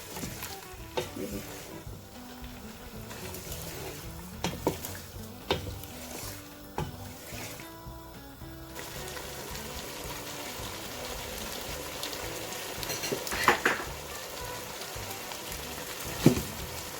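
Tomatoes and tomato purée being stirred and fried for a tandoori chicken karahi, a steady close sizzle with repeated scraping stir strokes and a few sharp clinks, no talking.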